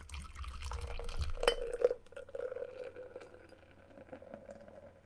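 Beck's non-alcoholic beer pours into a glass, a close liquid splash and fizzing trickle that peaks early then settles into quiet foamy bubbling, with no talk.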